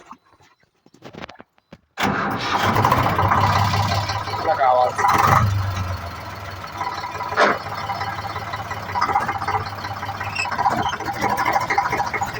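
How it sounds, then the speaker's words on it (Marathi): An Eicher 485 tractor engine starts abruptly after a short quiet stretch and settles into a loud, rough diesel chug during rice planting work, with people talking over it. "चला मग ट्रॅक्टर चालू करतो मी"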